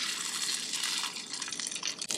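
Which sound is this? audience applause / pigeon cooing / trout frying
trout frying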